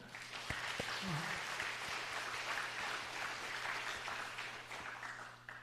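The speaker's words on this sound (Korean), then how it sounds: "우리 한번 박수 한번 해볼까요?" A church congregation claps at an evening Sunday service, moderate and diffuse, with a low steady hum underneath and a voice briefly breaking through.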